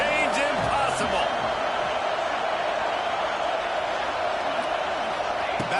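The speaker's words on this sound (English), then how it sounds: "the Husker faithful getting loud" Nebraska Husker fans at a college football game making a steady, loud crowd roar that fills the whole stretch, with a commentator speaking over the din.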